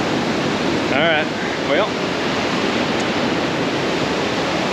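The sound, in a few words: powerful rushing water on the Superior Hiking Trail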